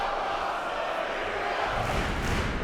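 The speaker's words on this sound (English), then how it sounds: "Listen to this crowd, the thunder." Arena crowd roaring steadily throughout an MMA bout, a dense, sustained wall of cheering and shouting from a large audience with no break.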